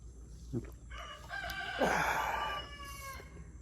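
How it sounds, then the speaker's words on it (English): A rooster crows loudly nearby, a long drawn-out call with a few short clucks before it, over a faint outdoor background. "enjoying the roosters."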